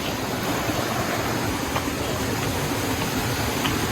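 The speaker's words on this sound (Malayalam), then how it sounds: "അതാ വെള്ളച്ചാട്ടം ഇതിലൂടെ ഒക്കെ ഒഴുകി ഒഴുകി പോകുന്നു" A waterfall rushes nearby in a steady, dense wash of broadband noise that holds constant without a break.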